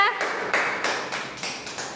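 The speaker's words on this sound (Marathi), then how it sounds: "टाळ्या वाजा सगळ्यांनी शिवराजला" Young children at an anganwadi clap together for a classmate during a colour-sorting game, a run of short bright claps in uneven bursts close by.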